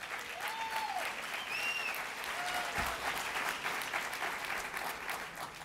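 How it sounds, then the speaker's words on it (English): Conference audience applauding after a governor's remarks at an immigrant integration event, a sustained, moderately distant roll of clapping with a few faint whistle-like tones and no talk. "let's give her a round of applause"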